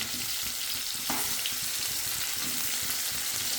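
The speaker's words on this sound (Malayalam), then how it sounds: "നല്ല സ്മെല്ലാണ് മീൻ പൊരിക്കുന്നത്" Kilimeen, fresh threadfin bream, frying in a pan with a steady, close crackling sizzle throughout, one brief louder pop of oil near the middle, no voices.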